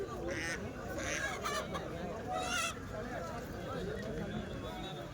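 Chickens and geese at a local poultry market honk and cluck in a steady, busy stream, with people talking nearby throughout.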